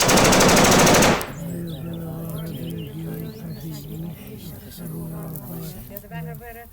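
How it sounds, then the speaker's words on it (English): Gunfire effect in a dramatized story about an Irish bog fight, opening with a second of dense, loud rapid fire, then giving way to quieter animal-like and bird-like background sounds. "The shooting was sporadic and constant, but the man was making good ground."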